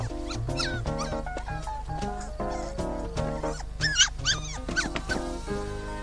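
A cartoon puppy whimpers and yips in short high whines and squeals over a continuous bed of music, the cries rising most clearly near the middle.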